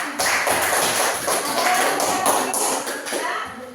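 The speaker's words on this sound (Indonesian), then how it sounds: "Tepuk tangan untuk kelompok." Students in a classroom give a group a brief round of applause, quick scattered hand claps and light thumps close by, with a voice faintly underneath.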